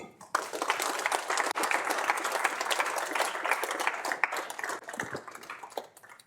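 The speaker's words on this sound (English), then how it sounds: "Let's give her one more round of applause for a nice lecture series." An audience at a physics lecture on holography in asymptotically flat spacetime breaks into sustained applause, dense clapping from many hands filling the room for several seconds, then thinning out toward the end.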